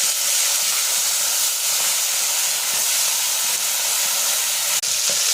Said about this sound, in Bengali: দেশি মাছের জন্য ফেটে ফেটে যাচ্ছে।